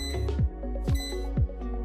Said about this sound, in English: You'll know the air fryer is done cooking when you hear it beep 3 times.